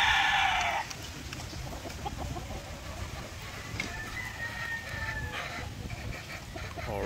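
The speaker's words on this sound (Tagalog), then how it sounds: "ito yung mga manok natin dito na palahi" Gamefowl chickens on a breeding farm, with a rooster's crow and clucking heard at moderate distance over steady outdoor background noise, no talking.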